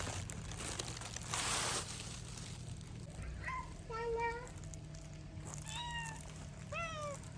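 A cat meows several times, short rising cries coming in quick bursts, over a quiet background with some rustling and a faint distant voice.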